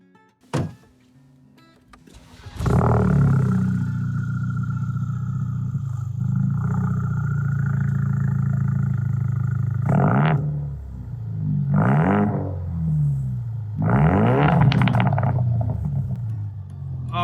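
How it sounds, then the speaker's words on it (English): A Ford Focus RS with aftermarket exhaust starts with a burst and settles into a loud, deep rumbling idle, then revs sharply three times, each roar rising and falling back. "Let's listen to how your car sounds."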